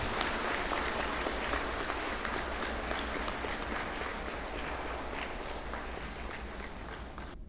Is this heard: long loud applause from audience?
yes